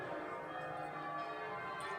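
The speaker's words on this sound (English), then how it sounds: "very lovely bells that chime in" Church bells ring in a church tower, a sustained, dense wash of overlapping chimes and resonant hum with no clear gaps, steady and fairly loud.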